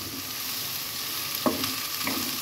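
Potatoes and mixed vegetables frying in a pan with a loud, steady sizzle, plus a couple of stirring scrapes partway through, with no talking.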